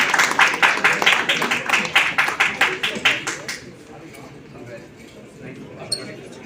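Rhythmic, fairly close hand clapping from an audience at an award ceremony at Hotel The Lalit, steady for about three seconds and then fading into quiet room murmur.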